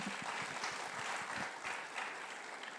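Audience applause for Anil Kapoor during an onstage interview at an Ideas of India event, a steady, fairly distant wash of clapping with no speech over it.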